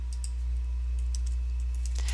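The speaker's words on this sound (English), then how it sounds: "I can be typing in here but not have that selected." Light, scattered keystrokes on a computer keyboard during data entry, faint clicks over a steady low hum with no one talking.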